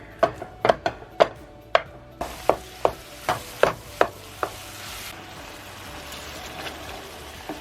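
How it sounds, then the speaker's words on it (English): Ground beef browns in a pan while a tool breaks up the chub, giving a series of sharp, regular scraping knocks against the pan over a low sizzle, close and without talk, thinning out toward the end. "let's just use this to break up this chub of beef so that it can brown quickly and evenly"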